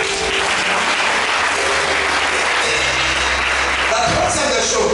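Church congregation applauding and cheering during a Sunday worship service, a dense steady wash of clapping sustained throughout, with voices mixed into the crowd noise.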